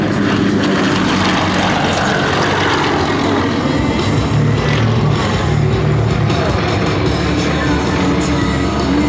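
Propeller aircraft of an aerobatic formation team fly a line-abreast loop at an air show, a loud continuous droning engine roar that rises and falls slightly as they pass overhead throughout.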